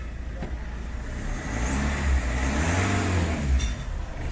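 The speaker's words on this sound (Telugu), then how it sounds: "మన బండి అనేది స్టార్ట్ అయిపోయింది" A Mahindra Scorpio engine cranks and starts after its ECM immobilizer is unlocked, a loud close rumble that swells and settles into a steady idle with no talking.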